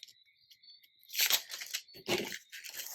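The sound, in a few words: scissors cutting paper sewing pattern piece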